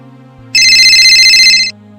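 A telephone rings with one loud, bright electronic ringtone burst lasting about a second over a low steady hum.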